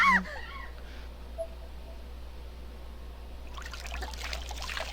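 Blood bubbling and trickling in the Corpse Party Blood Drive video game, a faint continuous liquid trickle over a low hum, swelling into louder bubbling toward the end after a short sound at the start.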